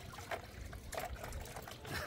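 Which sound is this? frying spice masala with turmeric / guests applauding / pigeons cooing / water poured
water poured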